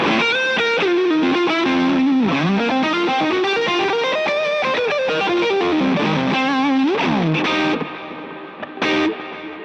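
Electric guitar through a Tone Geek Box-a-lator drive pedal, pushing the power amp, plays a gritty, distorted, sustained riff with bends and chords, loud and upfront with no talking.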